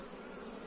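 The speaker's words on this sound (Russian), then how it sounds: "И вот уже начинают драться. То есть уже напад пошел, чужие пчелы прилетели." Honey bees fight at a hive as foreign bees rob it, giving a dense, steady buzzing swarm drone close to the listener for a brief moment.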